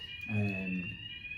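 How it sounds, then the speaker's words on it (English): A building fire alarm sounds a steady high electronic tone through the whole moment, during a post-match interview after a football game against Plymouth, with someone speaking over it. "Mark, I think the fire alarm's trying to tell us something"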